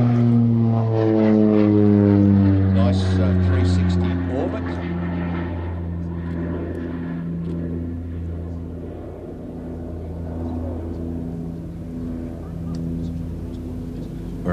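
Propeller aircraft climbing away at an air festival, a loud droning engine with a falling pitch that slowly fades, while a commentator talks over it.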